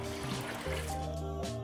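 Water steadily poured from a vessel into a large pot of soaked black beans, a continuous close trickle and splash that rises in pitch as the pot fills, with no talking.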